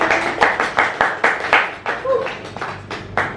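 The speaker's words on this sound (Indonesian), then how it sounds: "Boleh dong tepuk tangan." Rhythmic unison hand clapping from an audience at a corporate leadership and work motivation talk, about a dozen crisp, evenly spaced claps at a brisk beat, fairly close and loud.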